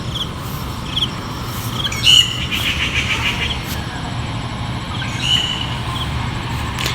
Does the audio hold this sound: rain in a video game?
no